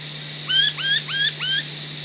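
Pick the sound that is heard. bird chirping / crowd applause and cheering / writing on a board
bird chirping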